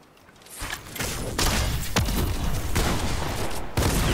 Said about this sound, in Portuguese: Tô atirando aqui de longe.